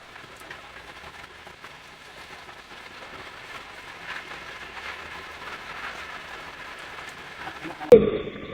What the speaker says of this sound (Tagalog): Biglaan pa naman yung buhos ng ulan. Ang lakas pa.